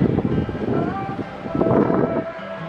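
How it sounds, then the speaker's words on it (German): Gusty wind in Switzerland buffets the microphone with rumbling low-end noise, while a voice talks over it throughout. "Ich hoffe, man hört mich, weil es ist übelst windig."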